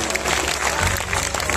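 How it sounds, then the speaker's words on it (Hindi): An audience at a Khatu Shyam bhajan performance clapping along together, a dense, continuous patter of many hands, loud and steady, with voices mixed in. "2 हाथ उठाकर ताली बजाएं"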